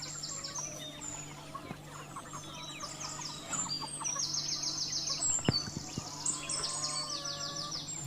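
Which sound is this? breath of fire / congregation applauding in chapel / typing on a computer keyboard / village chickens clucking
village chickens clucking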